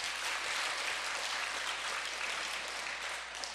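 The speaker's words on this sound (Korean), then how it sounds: "이를 위해 수고하는 분들에게 박수 한번 해주세요." A church congregation at a Sunday service applauds, a dense steady patter of many hands clapping that carries loudly through the hall before tapering slightly at the end.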